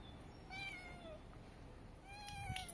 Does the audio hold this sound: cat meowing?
yes